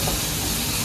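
Onions cooking in butter in a pan for butter chicken, giving a steady, close hiss and sizzle that holds evenly without pause, with no talking over it.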